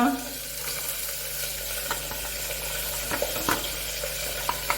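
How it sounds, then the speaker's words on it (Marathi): Carrot, chilli and beans are tipped into a hot pan of spiced oil and sizzle loudly and steadily, broken by light scraping stir strokes and small pops. "आता आपण भाज्या टाकू एक एक एक गाजर धबू मिरची श्रावण घेवडा"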